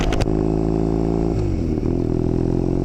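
A Triumph Thruxton 900 motorcycle engine runs loud and close, its steady throbbing hum shifting pitch briefly as the revs change.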